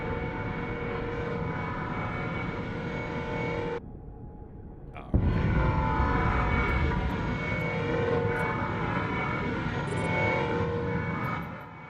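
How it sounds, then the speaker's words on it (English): Many drones in the EVE Frontier video game produce a dense, layered mechanical hum that drops out briefly, then returns with a sharp onset and continues loud and steady. "there's a lot of drones, so the sound just compounds"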